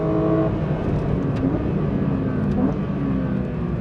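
A Porsche 992.2 GT3 with double-wishbone front suspension driven hard on a track, its engine a steady loud roar close by, continuous throughout with slight pitch shifts as it brakes into corners.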